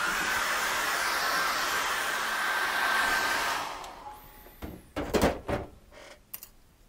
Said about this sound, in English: what have I got to do now is I've got to just get the hairdryer on that very quickly